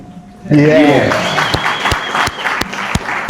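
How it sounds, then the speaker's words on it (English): An audience at a music listening session bursts into clapping after a brief lead-in, loud and close with a few sharp individual claps standing out, while a voice talks over part of it. "And now we can clap."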